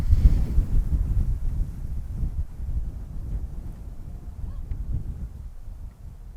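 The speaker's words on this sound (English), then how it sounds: "Pausing for wind to pass." Low, rumbling wind buffeting a microphone outdoors, steady and heavy in the low end, easing slightly toward the end with no voices.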